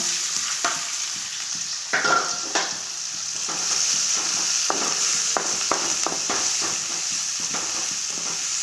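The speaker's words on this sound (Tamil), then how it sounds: "இப்போ நம்ம வெங்காயம் பச்சை மிளகாய் சேர்த்துக்கலாங்க" Onion and green chilli sauté with cumin in hot oil, giving a steady, close sizzle marked by repeated scraping strokes of a spoon against the pan.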